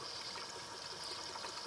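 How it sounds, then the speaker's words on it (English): Milk carafe on a Gaggia espresso machine siphoning water in place of milk, a steady, faint hiss of gurgling liquid and pump noise with no break and no talk. "as you can see, it's siphoning the water perfectly fine"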